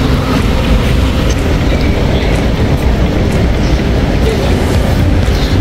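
A metro train rumbles loudly and continuously, with a dense roar of wheels and rails and faint clicks, as if heard from inside a moving car.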